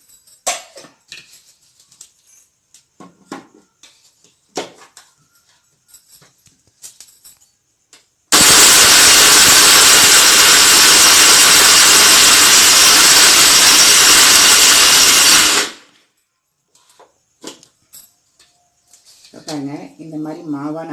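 An electric mixer grinder grinding a cup of toor dal into flour for hen feed, a loud steady whirring roar for about seven seconds, with brief talk and bird calls before and after.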